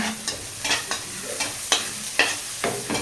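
Garlic and onion cooking in a pan for pork pochero, with repeated short scraping stirs every half second or so over a soft, steady sizzle, close up and with no talking.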